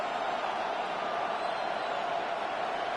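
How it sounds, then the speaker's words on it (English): Football stadium crowd roaring steadily on a third down, a dense continuous wash of cheering voices that holds at an even level throughout. "This crowd into it now as we get to 3rd down."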